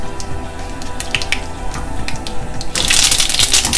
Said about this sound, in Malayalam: അപ്പോൾ നമ്മൾ കുറച്ച് കടുക് ഇട്ട് കൊടുക്കുകയാണ്.